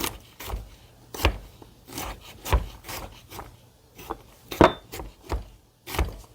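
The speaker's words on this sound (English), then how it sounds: "So I'm just going to give that just a little bit of a chop, but nothing fancy." A knife chopping fresh garlic on a board in a home kitchen, about a dozen irregular knocks and scraping strokes with brief pauses between, close and moderately loud, no talk.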